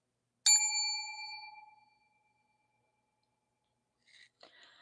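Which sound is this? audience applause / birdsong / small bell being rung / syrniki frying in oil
small bell being rung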